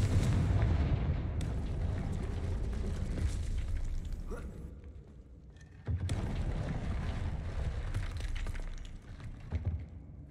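A Confringo spell blast in the video game Hogwarts Legacy booms out as a heavy, rumbling explosion, followed after a lull by a second loud burst that rolls on with crackling debris.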